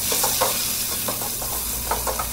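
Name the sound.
curry leaves, onions and green chillies sizzling in pan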